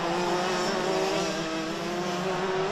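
Rotax DD2 go-karts pass on a race track during a pre-final. Their two-stroke engines make a loud, continuous buzzing drone with a steady pitch and no talk over it.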